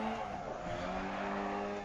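A 100 horsepower Mini Cooper racing on asphalt in the video game Dirt Rally: a continuous loud engine drone with tire noise, steady throughout, no talk.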